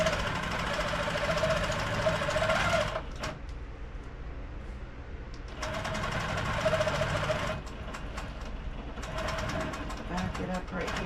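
A sewing machine runs a tack-down stitch on a quilted June Tailor shopping tote, humming in three steady bursts separated by short pauses, while a voice talks over it.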